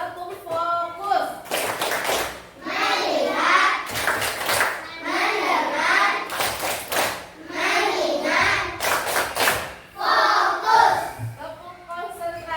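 The tepuk fokus clapping routine: sharp bursts of several quick hand claps in a steady repeating pattern, alternating with voices chanting between the clap groups, close and loud.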